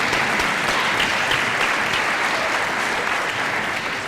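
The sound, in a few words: audience applause at a university commencement ceremony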